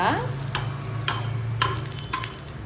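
Dosa batter frying in a little oil on a hot pan for a crispy Kadapa-style dosa, a steady close sizzle with a low hum beneath and several sharp scraping or tapping clicks spaced through it.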